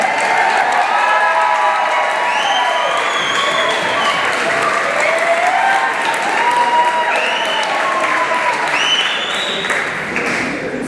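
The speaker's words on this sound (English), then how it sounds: "can we get a round of applause for how beautiful LeElle looks tonight" A crowd of wedding reception guests applauds steadily and loudly for about eleven seconds, with cheers and whoops rising over the dense clapping throughout.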